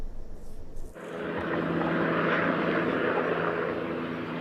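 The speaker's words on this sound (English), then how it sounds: "As a helicopter searched the cornfields for 6-year-old Elle Ragin" A search helicopter flies over cornfields, its broad rotor and engine rumble rising abruptly after a brief quiet start and holding steady and loud throughout.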